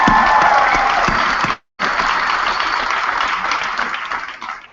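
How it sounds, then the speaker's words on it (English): Applause fills a high school graduation ceremony, loud dense clapping from a large crowd that cuts out briefly mid-way, then resumes and slowly fades. "Can we get them a round of applause real quick?"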